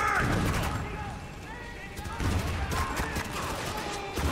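Gunfire in the video game Spec Ops: The Line, dense bursts of shots and impacts running through a combat scene, loud and continuous with short lulls, mixed with game noise.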